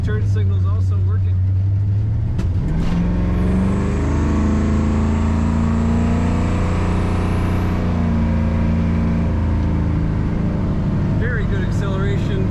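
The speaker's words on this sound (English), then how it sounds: "Very good acceleration in this Nova. Lots of power, I must say." A 1970 Chevrolet Nova two-door sedan with an automatic transmission accelerates, its engine note rising steadily and loudly from inside the cabin, droning through most of the stretch.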